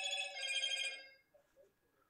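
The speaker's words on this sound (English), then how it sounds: "Bloody phone, go away." A telephone rings beside someone editing photos at a desk, one loud, buzzy burst lasting about a second that cuts off, followed by quiet room tone.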